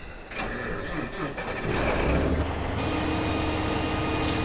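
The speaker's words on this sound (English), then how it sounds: "I'm just looking for the other tractor. There it is. Right, fire him up and get him away." A tractor engine in Farming Simulator 2015 cranks and catches after a moment of clicking, then settles into a loud, steady mid-pitched idle that carries on to the end.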